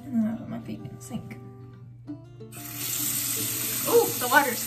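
A tap runs strongly into a sink with someone's feet in it, a bright steady splashing that begins partway through, with someone talking before and over it.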